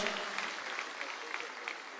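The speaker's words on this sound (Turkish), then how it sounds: "Iraklı kardeşlerimize yine kocaman bir alkış lütfen" Steady applause from a crowd at a music competition, a dense wash of clapping that holds at an even level throughout.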